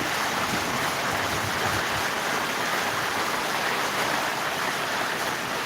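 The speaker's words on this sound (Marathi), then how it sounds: "आणि चांगला पाऊस पडत आहे" Heavy rain pours down steadily, a dense, loud, unbroken hiss of water filling the whole stretch with no voices.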